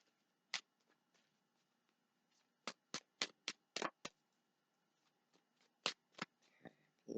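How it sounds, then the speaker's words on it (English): Romance Angels oracle cards riffled and shuffled by hand in a quiet room, a single flick at first, then a fast run of sharp crisp riffles and a final burst, clear and close. "These are the Romance Angels by Doreen Virtue. They are oracle cards"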